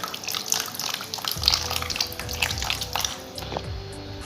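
Cold fridge water pours into ghevar batter, a steady splashing trickle running continuously for a few seconds, fairly close and moderately loud.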